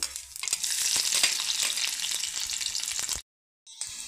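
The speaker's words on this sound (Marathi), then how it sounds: "लसूणसुद्धा थोडासा परतवून घेतला." Garlic sautéing in hot oil with bloomed cumin seeds for green amaranth bhaji, a loud, steady broadband sizzle with stirring clicks, close up, cutting out abruptly near the end before resuming briefly.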